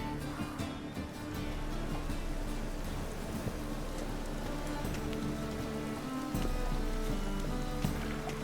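Steady rain falls in the video game The Witcher 3, a dense continuous patter on surfaces with occasional louder drips, alone and at even volume throughout.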